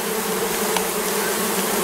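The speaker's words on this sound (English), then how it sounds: "we checked the hive, and this is the flight path" Honey bees fly around a hive entrance, a dense, continuous buzzing drone that stays loud and close throughout without voices.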